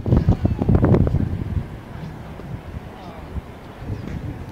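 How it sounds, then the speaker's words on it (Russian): Cold November wind gusts across a children's playground after rain, buffeting the microphone with a loud low rumble at first, then settling into a steadier, softer blowing. "Холодно и ветер дует."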